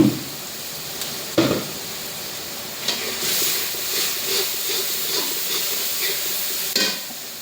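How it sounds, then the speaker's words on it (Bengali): Garlic frying in a pan with a steady close sizzle and hiss, punctuated by a few sharp utensil knocks against the pan and occasional stirring scrapes. "রসুনটা একটু ভালো করে ভেজে নিব"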